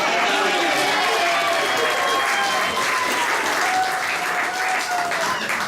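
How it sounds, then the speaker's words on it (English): Loud, sustained applause from guests at a wedding reception during the groom and best man speeches, a dense wash of clapping with some cheering voices mixed in, holding steady throughout. "Round of applause again."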